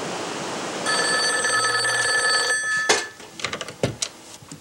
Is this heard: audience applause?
no